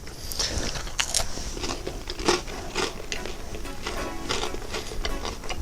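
Close, crisp crunches from bites into a thin, soft, chewy sugar cookie, several sharp crackles at irregular intervals followed by soft chewing.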